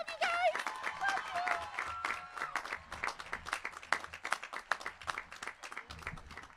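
Audience at the Granite Falls High School Class of 2024 graduation applauding Miss McGar, a dense patter of clapping with a brief voice and cheer at the start, steady and fairly faint across the hall.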